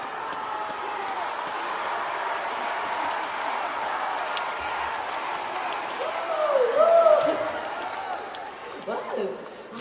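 A large crowd at an outdoor city citizens' day concert in Changwon cheers and chants for an encore, a steady, distant wash of voices and claps that swells briefly near the end.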